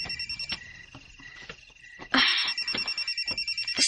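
A telephone rings for an incoming call from a mother, a steady electronic ringtone repeating in quick, evenly spaced pulses that grow louder partway through, with no talking.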